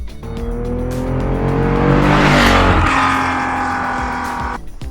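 A Porsche 911 ST sports car engine revs hard and roars past up close, the pitch climbing and then dropping away, with a brief tire squeal.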